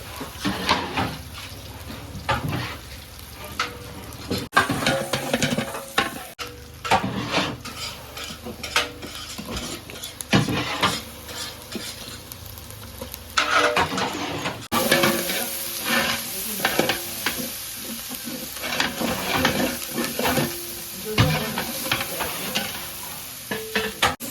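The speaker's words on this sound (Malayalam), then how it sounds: "ഉള്ളി നല്ല ബ്രൗൺ കളറായിട്ട് അപ്പൊ അതിൽ ഇഞ്ചി കൊടുത്തിട്ട്" Browned onions with added ginger fry in a pan for a Ravuthar biryani, a sustained close sizzle broken by repeated scraping and clattering strokes of a utensil stirring the pan.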